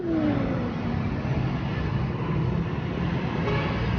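A steady rushing whir of a Motur Punk electric scooter in motion, with wind noise and a rising motor whine, continuous and close.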